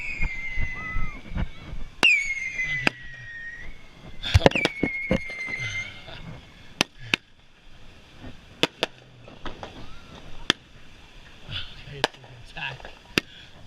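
Handheld fireworks and firecrackers set off by a group of friends outdoors, with sharp cracks and bangs scattered irregularly, whistling squeals rising between them, and voices talking nearby.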